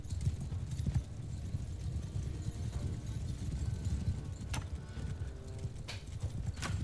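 Horses gallop in Mount & Blade II: Bannerlord, a dense rumble of hooves pounding steadily and close, with occasional sharp clanks cutting through the continuous drumming.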